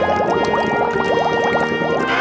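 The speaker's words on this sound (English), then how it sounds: "Cats love running water!" A running pet water fountain for a cat trickles and bubbles continuously, with a steady, close, fairly loud liquid burble throughout.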